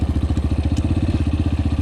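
Yamaha TTR125 motorcycle engine running in fifth gear, a steady rapid pulsing thump with loud, close mechanical clatter throughout.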